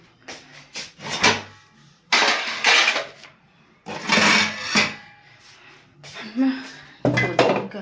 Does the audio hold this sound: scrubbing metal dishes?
yes